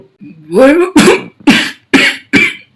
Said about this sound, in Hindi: पूछते ही खांसी।